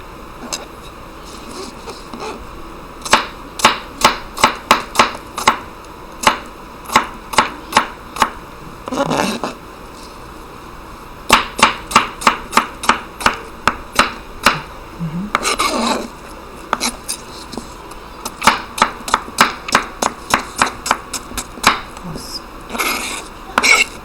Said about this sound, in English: Next, I'm going to be slicing the cucumbers.